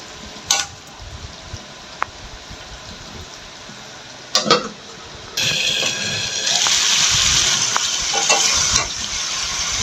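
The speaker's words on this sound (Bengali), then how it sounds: "এখন একটু নাড়াচাড়া করে আমি এটা একটু ঢাকনা দিয়ে ঢেকে দিয়ে কষাবো" Chicken curry in a pan, a few sharp stirring knocks at first, then a steady hissing sizzle that rises and holds for several seconds as the meat cooks down.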